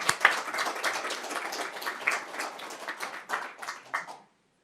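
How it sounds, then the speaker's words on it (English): An audience at a policy conference gives a round of applause, a fairly quiet, dense patter of many hands that continues for about four seconds before stopping abruptly. "Please give a warm round of applause to Deputy Director General."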